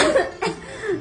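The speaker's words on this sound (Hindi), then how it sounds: "आप लोगों की वजह से मेरी जीजी को खांसी आ गई" A woman coughs in short bursts with a few laughing, throat-clearing sounds mixed in, close and moderately loud, during a mock wedding scene.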